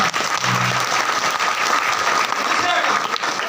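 Sustained applause from a large crowd, dense and steady throughout, with a voice briefly audible underneath.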